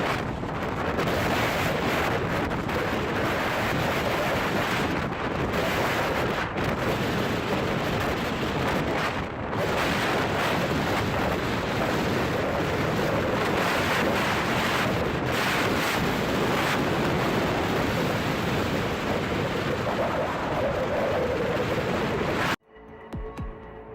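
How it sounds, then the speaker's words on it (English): A large Dutch fishing vessel with a 5,162-ton capacity pushes through storm waves at sea, with strong wind buffeting and the roar of crashing water running continuously, then cutting off abruptly near the end. "A large fishing vessel flying the flag of the Netherlands confidently passes the waves in a storm."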